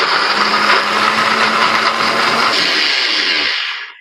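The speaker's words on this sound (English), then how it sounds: "I'm going to blend it up in my fancy blender." A blender whirs loudly and steadily, grinding through carrot and water, then winds down and stops near the end.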